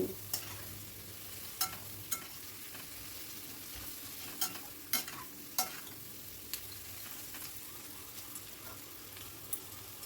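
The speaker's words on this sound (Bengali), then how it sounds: "দিয়ে আবারও সব কিছু ভালো করে মিশিয়ে নিচ্ছি" Potatoes, onions and chicken sizzle in a pan under a steady frying hiss, with a spatula clacking and scraping at irregular intervals as everything is mixed.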